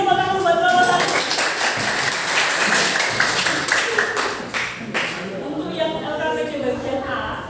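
Classroom applause for the first student presenter during a teaching practice session, a steady wash of many hands clapping that fills the whole stretch, dense and fairly loud, with some voices mixed in.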